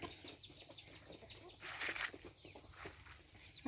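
Faint chickens clucking in the background of a custard apple farm, soft scattered calls with a brief louder flutter midway, heard from some distance.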